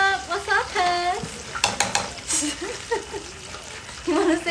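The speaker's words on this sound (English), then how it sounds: "I'm just frying it in canola oil" Fish frying in canola oil in a home kitchen, a steady sizzle running beneath near, continuous talking from a person.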